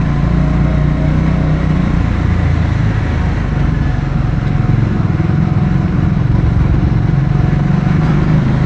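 Adventure motorcycles ride through narrow back streets in India, including a scrambler, their engines a steady, loud, continuous drone close by with no break for the whole stretch.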